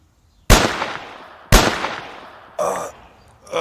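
Cartoon gunfire: two sharp, loud shots about a second apart, each with a long decaying tail, followed by a shorter burst of noise and another sound starting at the end.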